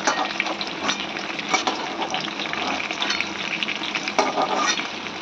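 Slices of pointed gourd fry in hot oil in a pan, crackling and sizzling steadily up close, with scraping stirs and a few louder spatters.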